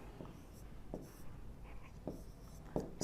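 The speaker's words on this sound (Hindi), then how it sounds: "इसको बड़ा मैं लिख रहा हूं" Chalk or marker writing on a board during a physics lecture on the relativistic Doppler effect, several short separate scratching strokes at a steady pace, close and clear in a quiet room.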